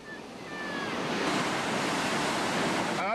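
Roaring whitewater on the Gauley River, a steady broadband rush of churning rapids that swells slightly and holds loud throughout, with some wind buffeting the microphone.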